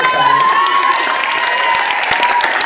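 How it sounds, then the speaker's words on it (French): An audience at a dance showcase applauds and cheers loudly, dense clapping with shouts and whistles over a few seconds. "donc ça s'applaudit"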